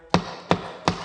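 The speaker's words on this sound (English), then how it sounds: "This is the sound of a gavel." Three sharp wooden gavel strikes, evenly spaced and close, each a crisp knock with a short ring.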